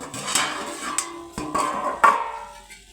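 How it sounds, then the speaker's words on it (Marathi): A cooking-pot lid is lifted off a pan of cabbage, with several light metallic clinks and clatters, close and fairly clear, each ringing briefly. "मी आता हे झाकण उघडत आहे"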